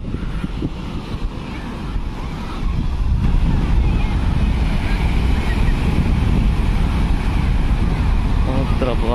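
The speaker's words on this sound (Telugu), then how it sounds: "సముద్రపు అలలు" Sea waves rolling onto Marina beach in Chennai, a broad steady roar of surf mixed with wind buffeting the microphone, swelling louder partway through as people talk nearby.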